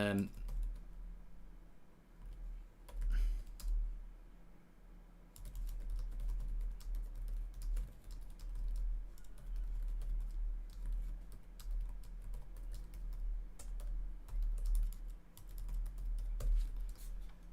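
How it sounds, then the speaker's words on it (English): Rapid clacking of a computer keyboard being typed on, a steady stream of small clicks running throughout at close range over a low background hum. "Sorry, I was just typing."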